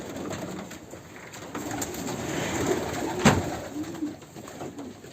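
Pigeons coo softly together inside a pigeon loft, a low continuous murmur of overlapping calls with occasional rustles and a brief knock.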